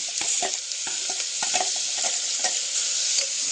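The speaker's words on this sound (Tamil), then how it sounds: "வெங்காயம் நல்லா வதங்கிடுச்சு தக்காளி போட்டுக்கோங்க" Chopped tomatoes stirred into onions frying in a pan for a rice and lentil dish, with steady close sizzling and repeated scraping stir strokes throughout and no talking.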